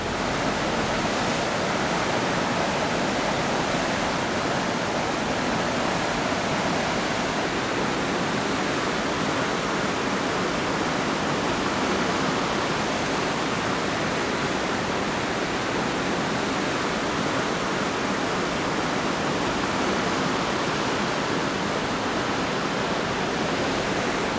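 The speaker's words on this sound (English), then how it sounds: "You also get the wake, right? The water, so it makes a lot of sound." Rushing wake water from a Celebrity Cruises ship heard from a Sunset Veranda cabin balcony: a steady, loud, broadband roar like a waterfall, continuous and unbroken with no voices.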